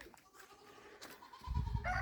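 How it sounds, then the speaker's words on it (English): Goats bleat on a homestead, one loud, close, drawn-out bleat near the end after a quiet stretch of outdoor background. "Now we gotta let the goats out."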